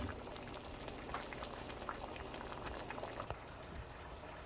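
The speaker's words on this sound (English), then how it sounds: "Let it boil now." Pot of duck rice with parsley, shallot and mint leaf boils steadily, a faint continuous bubbling and sputtering with small pops throughout, without any speech.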